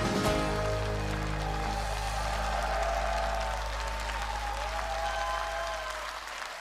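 Warm, sustained applause from a concert audience after a trot singer's stage performance at a 2021 Diamond Concert, steady and dense throughout with a faint host voice underneath.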